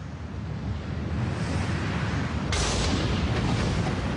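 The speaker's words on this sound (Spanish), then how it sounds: "Un tipo de erupción denominada inundación basáltica." Roaring, rushing rumble of a flood basalt volcanic eruption, a dense continuous wash of noise that swells and turns brighter and louder partway through, with no voices.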